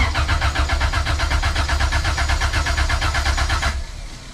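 A Honda CRX with a swapped B20Z engine cranks over on the starter for a compression test, a rapid, even chugging pulse repeating for several seconds before abruptly stopping.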